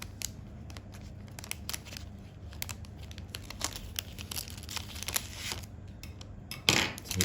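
Paper crinkles and rustles up close as a first day cover envelope is opened and a card is pulled out, a steady run of soft crackles ending in a louder crisp rustle.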